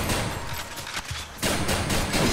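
Rapid bursts of weapon fire from the video game Hades, harsh and loud, with a brief lull before a denser volley resumes.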